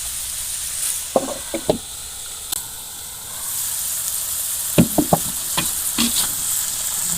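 Papaya flowers are stir-fried in a pan, giving a steady soft sizzle broken by scattered scraping clicks of a utensil stirring, near and moderately loud, with no talk.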